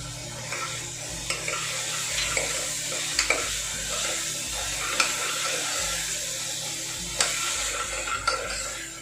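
Onions with ginger-garlic paste sizzle steadily in a hot pan for a tinde curry while a utensil stirs and scrapes, with occasional clinks against the pan.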